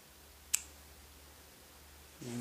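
A single quiet snip of scissors cutting crochet yarn, one short crisp click in an otherwise hushed room, with faint rustling at the end.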